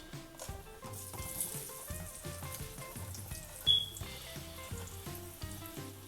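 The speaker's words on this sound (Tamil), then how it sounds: "இப்போ இந்த சின்ன வெங்காயத்தையும் நம்ம போட்டு வறுத்து எடுத்துடலாம்." Small onions frying in a pan for a spicy Tamil kaara chutney, giving a steady soft sizzle under gentle background music, with a brief sharper crackle partway through.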